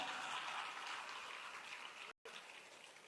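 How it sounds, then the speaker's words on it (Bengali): Faint, steady audience applause for volunteers at a youth event in Bangladesh, a continuous wash of many hands clapping heard from a distance, broken by one brief dropout before resuming. "লজিক অফ বাংলাদেশের প্রত্যেকটা ভলান্টিয়ার এবং রাফি, ইলমা প্রত্যেকের জন্য একটা করতালি আশা করছি আমি"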